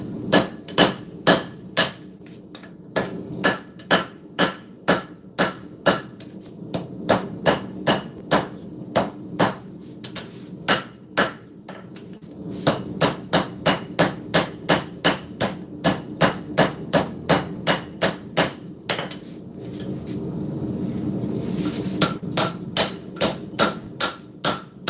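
A steel cleaver blade is hammer-forged, with its bevels being shaped; loud, rapid ringing blows come in steady bursts with short pauses between runs, close and dominant throughout.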